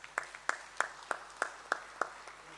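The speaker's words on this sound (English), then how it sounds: "Give him a big hand of applause" Audience at a Workers Day community meeting clapping in a sparse, slow rhythm, about eight distinct claps spaced evenly and fairly faint, with no crowd roar behind them.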